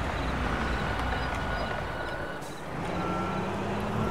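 In a construction simulator video game, a truck backs up with a steady engine drone and a faint repeating reversing beep running under it.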